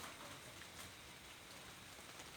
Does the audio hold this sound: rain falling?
yes